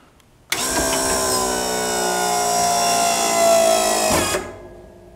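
A Meyer E-47 snowplow hydraulic pump starts abruptly and whines steadily for about four seconds at close range, rising slightly in strain before cutting off.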